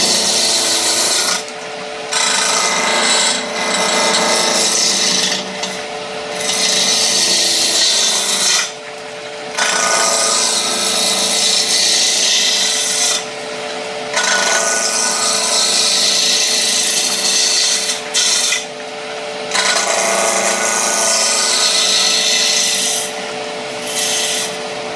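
A skew chisel cuts a spinning wood spindle on a lathe, a loud close rasping hiss in repeated strokes broken by short pauses as the edge lifts off, over the lathe's steady hum.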